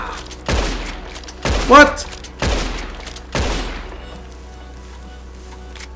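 Four loud, sharp gunshots crack out at roughly one-second intervals in Red Dead Online, each with a booming tail, and a short spoken exclamation cuts in between them.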